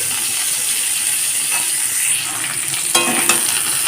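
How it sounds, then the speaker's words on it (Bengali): Drumstick pieces fry in hot mustard oil over a low flame, a close, steady sizzle with a few sharp metallic clinks of stirring near the end, and no voices. "ডাঁটাগুলোকে হালকা ভেজে নেব"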